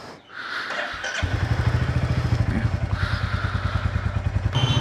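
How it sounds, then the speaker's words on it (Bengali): A motorcycle engine cold-starting after sitting unused for a long time, a short cranking rustle and then a steady, rapid idle chugging close by, with no talk. "একটু কোল্ড স্টার্ট দিয়ে নিই।"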